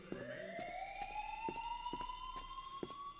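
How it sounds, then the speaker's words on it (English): Fire alarm in the video game Who is Abby?: a rising electronic siren tone with regular rhythmic pulses underneath, steady and moderately loud, with no clear speech. "This is a fire alarm. Please remain calm and clear the building."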